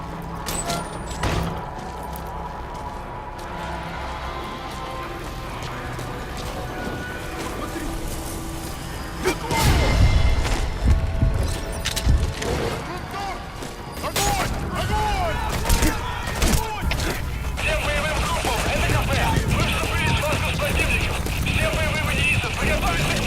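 Horse hooves clip-clopping at a run in Metal Gear Solid V: The Phantom Phantom Pain, steady rhythmic hoofbeats under game speech and ambient noise, getting louder and busier toward the end.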